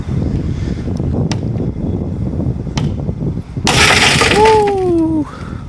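A loud burst of breaking glass shattering and crunching over low rumbling noise, followed by a short rising voice-like whistle, with a few sharp clicks earlier.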